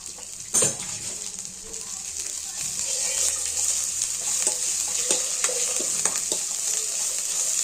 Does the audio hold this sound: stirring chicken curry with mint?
yes